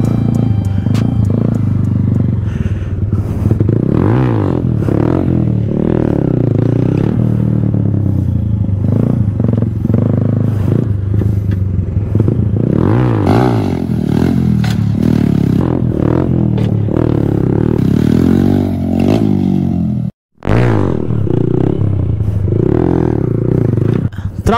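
A TVS Apache motorcycle in freestyle stunt riding revs loud and close, its engine pitch rising and falling continuously, with a brief cutout near the end.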